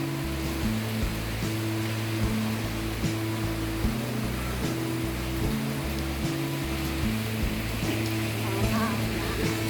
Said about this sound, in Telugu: మీకు కింద వాటర్ సౌండ్ వినిపిస్తుందా?